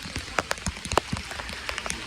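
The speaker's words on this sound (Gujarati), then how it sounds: "તો આવો વરસાદ છે" Rain falls on a village yard with puddles collecting, a steady patter punctuated by sharp, close drops striking surfaces in an irregular rhythm.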